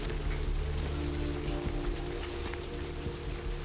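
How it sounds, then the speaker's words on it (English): Steady rain patters down in the video game Vampire: The Masquerade – Bloodlines, a continuous hiss with low droning background tones, unbroken and fairly loud. "Rain in the game threw you for a second."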